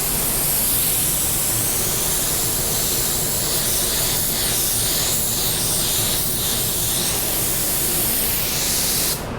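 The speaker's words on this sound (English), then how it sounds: "We're ready to spray." A paint spray gun lays down automotive paint in a continuous, close, loud hiss that holds steady for several seconds before cutting off abruptly at the end.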